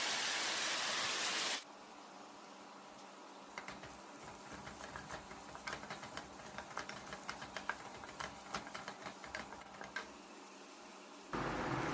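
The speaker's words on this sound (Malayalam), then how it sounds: "ഒരു മഴ സ്ട്രോങ് ആവുന്നുണ്ട് കേട്ടോ." Heavy rain pours down outside during an evening of home cooking, a loud steady hiss at the start and end with a quieter stretch of light ticking and clicking in between.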